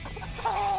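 A Peruvian-cross chicken clucking, a short faint call rising into a single sustained clucking tone, close and alone.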